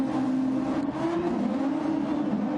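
The engine of a Formula 1 race car in a video game at Spa drones at a high, steady pitch under overtake boost, holding close and loud with only slight wavering for a few seconds.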